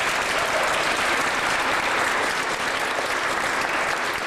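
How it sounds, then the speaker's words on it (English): A large audience at a charity event in Edmonton gives a big round of applause, a dense, steady roar of clapping that stays loud and even throughout, heard alone without any talking. "So give them another big round of applause."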